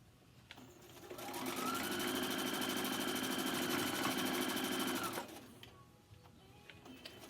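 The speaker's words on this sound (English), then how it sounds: "I'm going to keep sewing" A sewing machine stitches wire into a fabric mask, its steady rapid whir rising in at about a second, holding evenly for four seconds, then stopping, with quiet room noise before and after.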